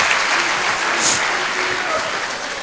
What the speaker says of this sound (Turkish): Ben burada bir alkış, bir büyük alkış daha istiyorum.